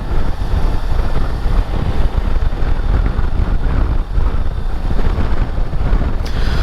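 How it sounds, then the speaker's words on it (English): Wind turbulence buffeting a rider's helmet on a Suzuki V-Strom 250 at speed, a constant loud low roar with rough fluttering gusts and no voice. "you can most probably hear it on the helmet. It does become quite turbulent."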